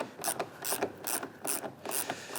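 Ratchet loosening 10mm bolts on the rear bumper of a Subaru WRX, a rapid series of quiet clicking pawl bursts in a regular back-and-forth rhythm, close and alone.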